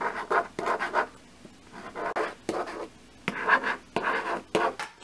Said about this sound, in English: let me just write something down real quick.